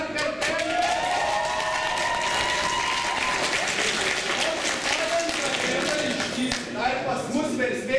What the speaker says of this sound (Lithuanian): O dabar plojimai gerčių dar kartelį